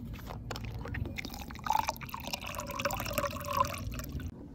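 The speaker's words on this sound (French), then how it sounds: "Et là, vous ajoutez de l'eau." Water poured into a drinking glass holding salt, a steady liquid trickle with a few brighter splashy drips, fairly close and heard alone without voices.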